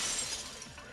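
A window shatters in Danganronpa 2, a short, bright burst of breaking glass with crackling high shards that fades quickly over a second.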